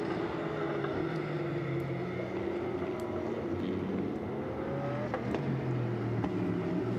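GT race cars, including Porsche Cup runners, lapping the Paul Ricard circuit in a six-hour endurance race, a dense continuous engine roar with several overlapping tones rising and falling as the cars pass, mid-distance and steady throughout.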